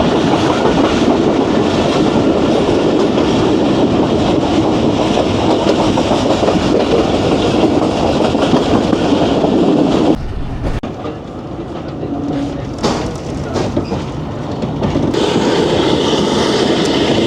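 Jaffar Express passenger train running through Sahaba station, a loud steady rumble with clattering wheels and rail noise that dips briefly midway before surging back, close and continuous, with no voices.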